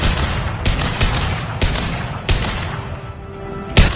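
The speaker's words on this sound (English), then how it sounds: "Gunfight going back and forth, the troops are still going down." Back-and-forth gunfight in the Recruit Archangel video game, with sharp shots and bursts landing at irregular intervals amid a dense, rumbling battle backdrop; loud and close, with a heavy thump near the end.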